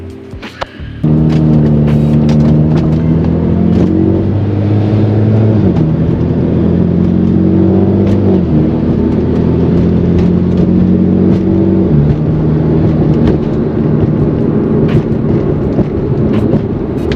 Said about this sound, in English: Turbo noises inbound.